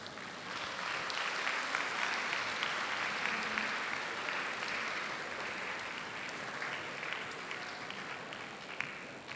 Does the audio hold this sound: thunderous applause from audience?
yes